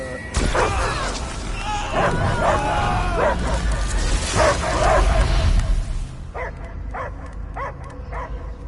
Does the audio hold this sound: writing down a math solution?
no